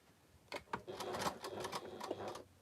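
Sewing machine running a short partial seam on patchwork triangles, with steady rapid stitching at low level and a couple of brief pauses.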